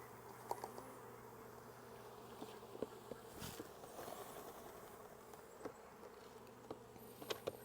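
Honey bees, about 300, hum faintly inside a sample cup, a low steady drone broken by small clicks and taps.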